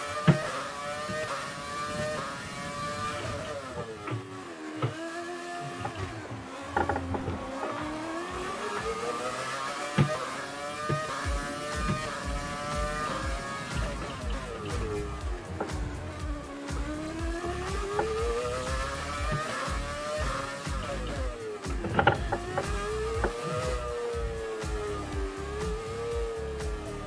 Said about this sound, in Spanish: ¡Guau, cómo se va el coche!